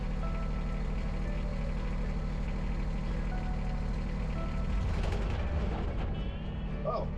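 A mini-excavator rolls downhill with its engine droning loudly and steadily. Near the end comes a burst of clanking and a jolt, and a short beep follows.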